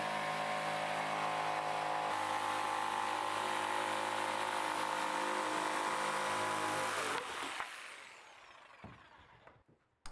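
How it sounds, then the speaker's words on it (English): A jigsaw cuts a hole out of a sheet resting on a trestle, a loud, steady buzzing drone held for about seven seconds before it winds down and stops, followed by a few light knocks. "take the sheet back down onto the trestle and cut it out with the jigsaw"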